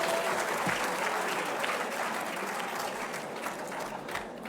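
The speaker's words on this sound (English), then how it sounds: "Keep the applause going, please" Applause from an audience at a volunteer awards ceremony honouring community volunteers, a dense, steady wash of many hands clapping that holds at an even level throughout with no voices on top.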